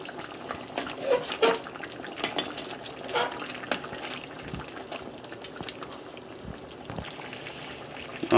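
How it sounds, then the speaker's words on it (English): Carrots and Irish potato are dropped into the water of a Jamaican-style brown stew mutton, with scattered splashes and plops over a low, wet background bubbling. "right now I'm going to add the carrots and the Irish potato to the dish"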